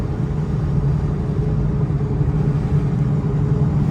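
Steady low engine rumble from a cheap, worn Ford Mustang cruising straight down the road, continuous and fairly loud with no talk over it.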